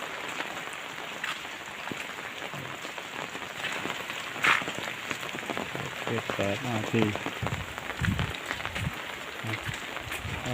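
Steady rain falls outdoors, a dense even patter on surfaces throughout, with a few brief voices and small bumps under it.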